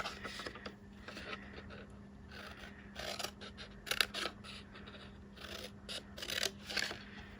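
Scissors snipping through paper or card while making an exploding gift box for beverages, a series of short irregular crisp cuts and rustles at close range, with a steady low hum underneath.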